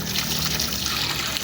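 Tap water pours steadily into a crayfish tank without a filter, a continuous close splashing trickle with no break.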